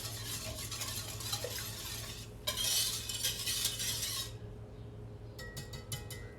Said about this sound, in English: a light whisk.